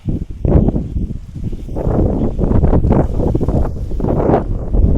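Heavy gusts of strong wind at a hilltop viewpoint on Kodikuthi Mala, Malabar, batter the microphone with deep, surging rumbles that swell and fall, loud and close throughout.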